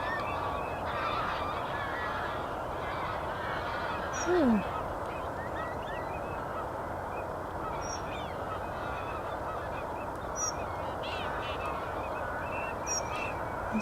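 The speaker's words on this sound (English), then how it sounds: "Oh, all the geese are coming in." A flock of geese honks repeatedly over Rainham Marshes, the calls scattered and moderately distant above a steady wash of wind and marsh ambience.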